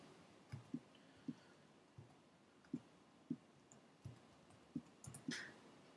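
A new password being typed on a computer keyboard, with sparse, soft key clicks spaced irregularly over a quiet background.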